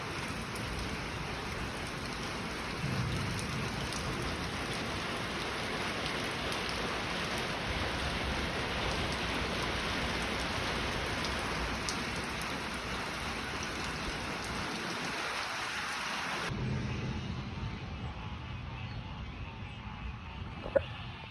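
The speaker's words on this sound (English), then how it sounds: "so freak storm came." Heavy rain from a sudden storm pouring down on a homestead, a steady dense hiss of falling water that continues throughout and thins out abruptly near the end.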